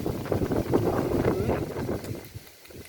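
A strong summer wind gust in Surin, Thailand, roars outdoors as a continuous, loud, rushing, buffeting noise that eases slightly toward the end.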